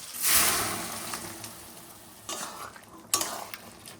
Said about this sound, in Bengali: ঘুগনির জন্য মশলা কষিয়ে নিচ্ছি